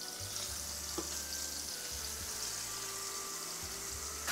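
Beef for stroganoff, dusted in flour, sizzling in a very hot steel frying pan, giving a steady close hiss and crackle that holds throughout with no talk.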